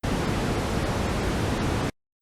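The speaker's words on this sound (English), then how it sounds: "White noise is an equal level of energy at all frequencies." Broadband white noise test signal, a steady, loud hiss spread evenly across the range, unbroken for about two seconds and then cut off abruptly.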